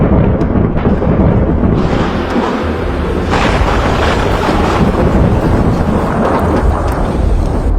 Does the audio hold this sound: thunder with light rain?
yes